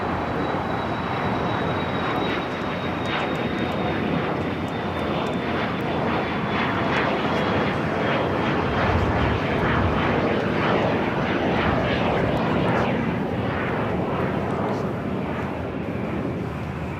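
A Boeing 747 taxiing and turning at Los Angeles LAX airport, its jet engines giving a steady, loud, close roar with a thin high whine that slowly falls in pitch across the whole stretch.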